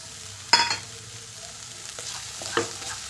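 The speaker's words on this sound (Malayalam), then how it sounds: "ഇത് എല്ലാം കൂടി നല്ലതുപോലെ ഒന്ന് വഴറ്റിയെടുക്കാം." Turmeric and chilli powder sautéed in a hot pan for fried idli, a soft steady sizzle broken by two or three sharp spoon scrapes and taps.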